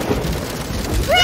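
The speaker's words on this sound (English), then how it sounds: "Mr. Frog, why would you want to make rain sounds on your keyboard?" Rain sound effect from a toy preschool learning keyboard, a steady broadband rainfall hiss lasting about a second, with a brief rising electronic tone near the end.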